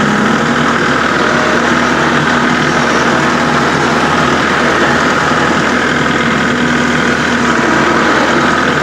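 Kubota tractor diesel engine throttled up past 1,000 rpm to drive the hydrostatic pump, a steady loud rumble holding even for the whole stretch with no talk.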